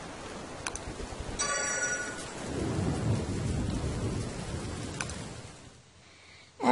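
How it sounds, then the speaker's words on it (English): Steady rain hisses down in the video game Don't Starve while low thunder rumbles through the middle, with a few faint ticking drops; no voices. "And it's raining, that'll put out our torch."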